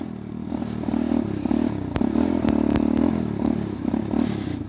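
A malfunctioning Motorstar MSX 125 modified trail motorcycle runs with a steady, loud engine drone, close by, broken by sharp clicks and rattling clatter from the machine.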